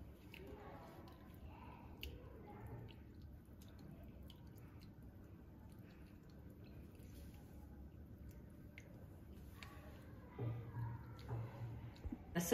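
Soaked tamarind is squeezed by hand in water to draw out its juice, giving faint, close wet squishes and drips that continue steadily and grow a little louder near the end.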